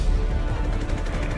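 Dense gunfire in Call of Duty Black Ops Cold War on PS4, with rapid overlapping shots and booming reports layered over a rumbling game soundscape, heard loud and continuous throughout.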